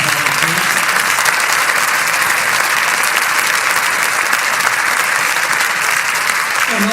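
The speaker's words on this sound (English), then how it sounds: "If you could do a big round of applause for all of our volunteers." Loud, sustained applause fills an awards ceremony hall as the audience claps for volunteers, a dense unbroken wash of clapping lasting the whole stretch.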